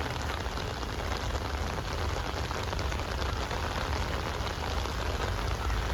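Steady rain falling over the plant nursery garden at Lalbagh in Bangalore, a dense continuous patter on leaves and surfaces, even and close, with no voices.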